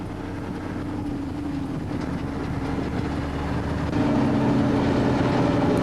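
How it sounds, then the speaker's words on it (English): A heavy dump truck engine runs steadily with a low, droning rumble, growing slightly louder toward the end. "Watch the tachometer and listen to the engine."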